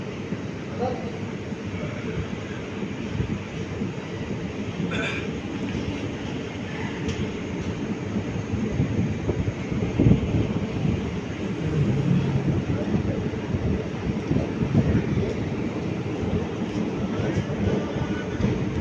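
Mayiladuthurai–Coimbatore express train rolling at steady speed, with a continuous rumbling wheel-and-carriage roar and occasional rattles and clatter over about nineteen seconds, moderately loud throughout.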